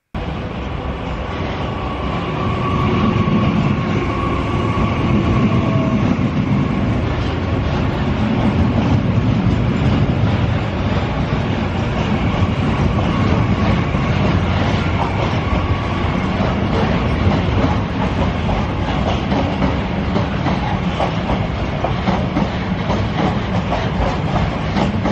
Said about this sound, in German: gleichzeitig kommt von Gemünden nach Gleis 7 der Twindex her eingefahren